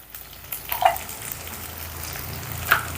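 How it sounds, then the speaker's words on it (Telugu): Ginger garlic paste frying with mint leaves in a pan for Telangana bagara rice, giving a steady soft sizzle with a couple of light stirring scrapes, close and moderately loud, no talking. "ఇప్పుడు ఈ అల్లం వెల్లుల్లి పేస్ట్ని పచ్చివాసన పోయేంత వరకు ఫ్రై చేస్తున్నాం"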